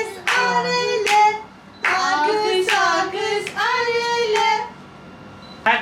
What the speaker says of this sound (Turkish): Ayakta dur alkışlar